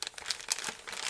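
A wax pack of baseball cards is torn open by hand, giving close, crisp crinkling and crackling of the wrapper in quick irregular bursts with no talking.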